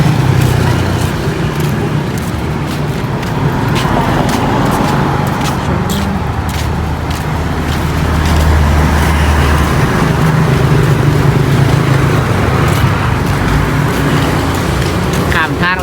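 Road traffic on a street being crossed, with cars and motor vehicles rumbling past steadily and close by, a constant roadway roar throughout, while people talk now and then over the noise.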